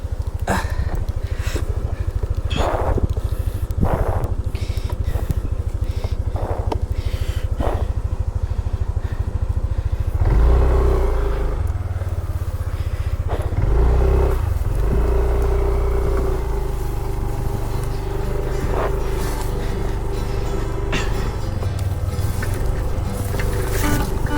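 A motorcycle rides along a riverside, its engine droning steadily and close with rough low rumble, swelling louder around the middle as it works harder, with no talk over it.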